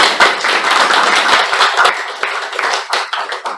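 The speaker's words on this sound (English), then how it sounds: "let's give a huge round of applause to our audience today" Audience at a joint Toastmasters club meeting gives a round of applause, dense hand clapping that holds steady, then thins into scattered, sharper individual claps as it winds down.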